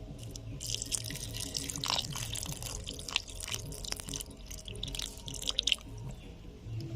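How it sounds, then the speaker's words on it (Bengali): Water splashes and trickles over dried tamarind in a bowl while a fish curry is being prepared, a close, continuous pouring sound with small drips and no voices. "এখন দিয়ে দিচ্ছি জল।"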